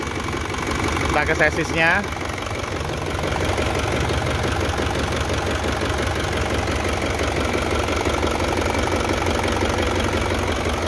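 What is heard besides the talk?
Isuzu Elf NKR71 truck engine idling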